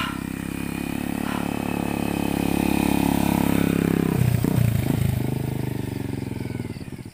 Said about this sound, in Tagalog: Nakita nyo? Yung motor tumitirik pa oh.